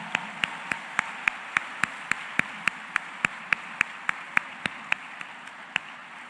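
Sparse, evenly spaced claps at a ceremony, single sharp hand claps repeating at a steady rhythm over a quiet room hum, with no voices.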